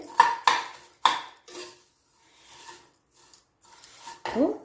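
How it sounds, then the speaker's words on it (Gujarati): Sev vermicelli is tossed and roasted in ghee in a pan, giving intermittent metallic clinks and scrapes of a spoon against the pan, with a few sharp knocks separated by quiet gaps. "આ રીતના તમારે ઉલટ પુલટ કરીને સરસ બધી બાજુમાં ઘી આવી જાય એ રીતના તમારે આ સેવને શેકવાની છે"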